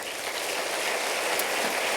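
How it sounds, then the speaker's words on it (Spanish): A church congregation applauds in a dense, steady wash of many hands clapping at once, filling the whole stretch evenly with no voices over it. "Den un aplauso al Señor."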